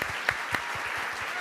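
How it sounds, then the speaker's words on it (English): A law school audience at a Supreme Court year-in-review event applauds in a brief, moderately distant burst of many hands, with a couple of sharper claps standing out. "you don't even know why you're applauding yet."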